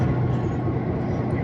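A diesel-electric locomotive on the Leadville railroad in Colorado gives a steady, low rumble from the front of the train, droning evenly without breaks.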